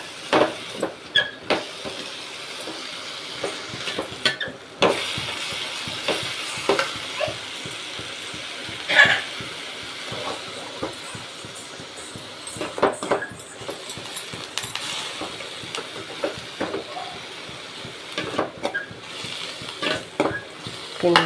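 Ponnanganni greens stirred with salt in a pan, a soft scraping and rustling with intermittent clinks of the spatula, close and moderately loud, with no talk.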